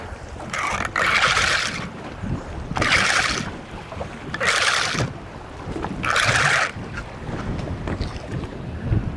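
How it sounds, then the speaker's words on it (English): Wind gusts over a fishing boat on open water, coming in several loud rushing bursts separated by quieter lulls, with no one talking. "That wind is picking up."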